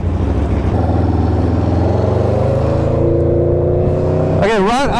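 An Aprilia RSV4 motorcycle fitted with a 520 chain and sprocket pulls away, its engine rising through a smooth climbing rev, loud and close, with wind buffeting the microphone at the end.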